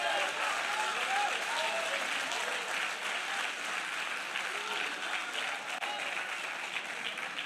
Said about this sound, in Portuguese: Essas palmas é porque você se sentiu mesmo ou não?